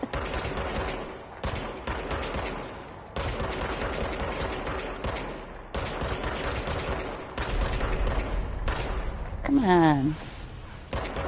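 Enemy gunfire in the video game Control, continuous rapid bursts of shooting across the whole stretch, loud and close, with someone talking over it and a rising whooshing game effect near the end.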